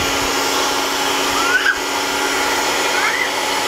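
A Miyko electric spice grinder runs its motor in a steady, loud, high-pitched whir that holds evenly throughout, with a couple of faint whistling tones rising briefly over it.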